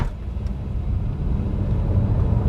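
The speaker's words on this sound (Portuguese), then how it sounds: "quando você acelera fundo, dá o kickdown, você repara inclusive que o motor a combustão entra para ajudar a puxar o carro" A BYD Song Plus Premium DM-i AWD plug-in hybrid SUV under hard kickdown acceleration, its combustion engine joining in as a steady low drone with road rumble, heard loud and continuous from inside the cabin, no speech.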